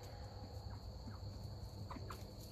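Faint chicken clucks chirp and warble now and then over a steady background hum, distant and soft, with no talking.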